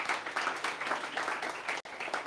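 Audience applause at a live pitch competition event, greeting a jury member introduced on stage; steady dense clapping for a couple of seconds with a brief dropout near the end.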